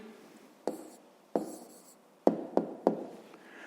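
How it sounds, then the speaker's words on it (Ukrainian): Handwriting an answer with a pen on paper, close by: a few quiet scratching strokes separated by brief pauses, each starting with a soft tap, with no voices. "Ну що ж, записуємо тоді відповідь."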